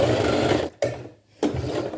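Sewing machine stitching fabric scraps in short loud bursts, a steady rapid whir broken by two brief pauses.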